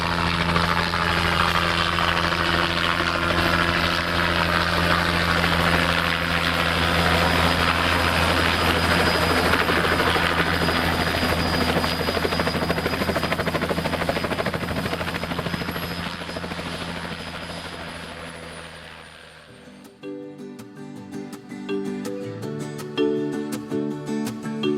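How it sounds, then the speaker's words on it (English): Helicopter rotor and turbine roar steady and loud for about twenty seconds, close by, landing to collect a crew after a plane went down near Churchill; the noise then cuts off, leaving scattered clatter. "So we came back with the helicopter"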